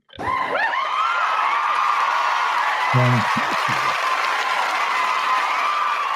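A loud, sustained studio audience roar of cheering and applause with whoops and shouts, steady throughout after a sudden start.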